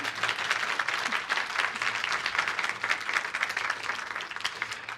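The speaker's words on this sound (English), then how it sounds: "So a quick round of applause for Tanni, if we can" A festival audience at a Q&A session gives a round of applause, steady full-room clapping from many hands lasting several seconds without a break.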